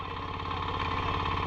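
A tractor works a muddy rice paddy in Konkan, its engine chugging in a steady, fast rhythmic thump with a constant mechanical drone, moderately quiet and unbroken, with no voices.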